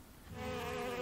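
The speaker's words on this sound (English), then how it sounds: "buzzing one hippo ear and then the other" A honeybee buzzes close by as it circles a hippo's head from one ear to the other. The brief, steady whine swells in loudness and has no talk over it.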